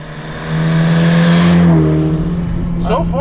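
Modified 2001 Mitsubishi Evolution VII on Firestone Indy 500 tires driving through a canyon, its engine droning loudly from inside the car as revs rise and then ease off, with brief talk near the end.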